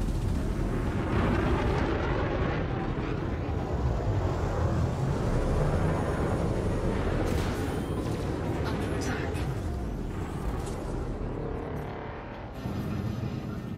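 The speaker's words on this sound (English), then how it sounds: "Where else can you get a Gauss cannon on board a fighter?" A Gauss cannon fires from a fighter in a space combat video game, producing loud, dense rumbling blasts and heavy booms that roll on continuously, easing slightly before a final swell.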